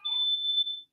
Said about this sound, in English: Just ignore those fire alarm. Just ignore the smoke detectors,